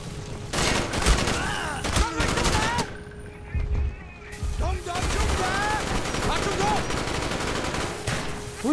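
Dense gunfire from a Call of Duty: Black Ops firefight, with rapid automatic bursts and scattered shots cracking in overlapping volleys, a brief lull in the middle, and shouted voices and game sounds mixed in throughout.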